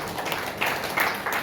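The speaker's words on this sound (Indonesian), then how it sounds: "Tepuk tangan bagi Allah." A church congregation clapping during Sunday worship, a brief burst of scattered, fairly close hand claps that continues steadily without any voices.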